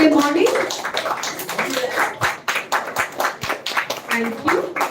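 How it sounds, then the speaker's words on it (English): Crowd applause at a school children's literature festival after student performances, with scattered clapping, fairly loud and steady, with voices and cheers mixed in throughout. "Can we give a big round of applause"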